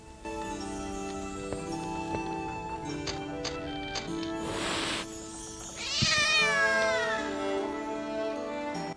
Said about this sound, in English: Oh my God, a gigantic cat!